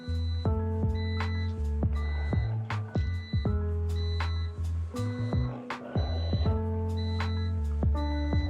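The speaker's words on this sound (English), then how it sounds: "You can hear that beeping." A timer beeps repeatedly in short, evenly spaced electronic tones, fairly close and clear, signalling that a batch of parts has finished during a scale model kit build.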